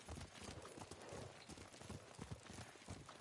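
Rhythmic clip-clop of horse hooves at a fast gallop in the video game Ghost of Tsushima, continuous and fairly close, with faint background ambience.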